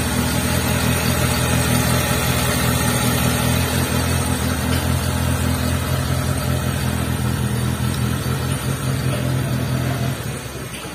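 A Triumph T120SS motorcycle engine runs roughly and stutters under part throttle, a loud, steady close-up mechanical drone with an uneven beat that fades slightly at the very end.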